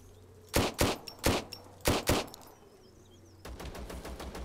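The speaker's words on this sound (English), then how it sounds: "Who was doing the shooting then?" Bandits shooting in the Zero Sievert video game: several sharp, fairly loud single shots spaced unevenly, followed by a quieter, rapid, clattering volley that sounds farther away, with no talking.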